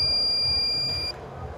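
Smart camper control system sounding its alarm buzzer after a simulated water leak stops the water pump; a steady high electronic tone holds for about a second, then cuts off, leaving faint background noise.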